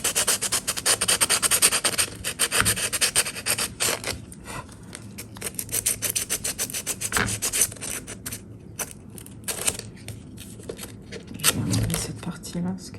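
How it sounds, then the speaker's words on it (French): A lacquered decoden figure being sanded by hand to strip the lacquer, producing quick rhythmic rubbing and scraping strokes in bursts, close up, with a voice talking intermittently. "je vais poncer chaque partie, je vais poncer ça, comme ça la peinture va mieux accrocher"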